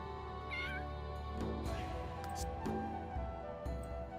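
A cat in The Sims 3 gives a few short meows, the clearest one near the start, over a steady background hum and soft game sounds. Each call is faint and brief.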